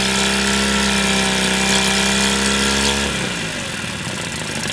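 Boat engine idling on a wash kit with water flushing through and exhaust exiting with the water, a steady loud hum that drops in pitch and smooths out partway through, with no talk.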